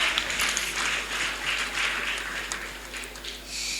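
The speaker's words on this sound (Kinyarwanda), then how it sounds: "nimumumera amashyi" A church congregation claps together in a sustained, fairly even round of applause, with the clapping heard at a moderate distance in a reverberant room.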